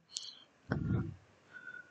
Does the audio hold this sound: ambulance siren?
no